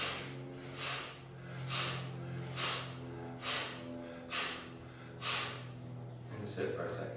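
Kapalabhati yoga breathing, about seven sharp, forceful nasal exhalations in a steady rhythm, close and clear over a low background hum.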